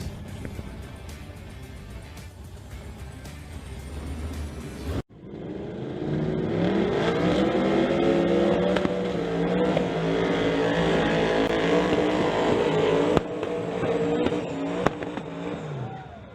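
Drag racing cars at Mission Raceway, after a quieter stretch a loud sustained engine roar erupts and holds as the cars make a quarter-mile pass, with shifting engine tones.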